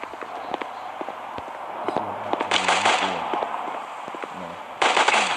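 Explosions rumble and crackle during a Guns of Boom online shooter match, with a loud burst midway and another sharp blast near the end over a steady wash of game noise.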